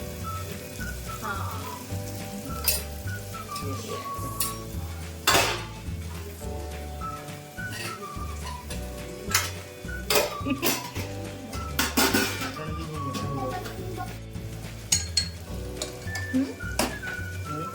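Turmeric and asafoetida sizzle in hot oil in a pan for Marathi misal, a steady frying hiss under clinks of a spoon against the pan, while music plays along with scattered voices.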